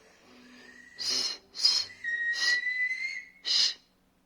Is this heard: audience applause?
no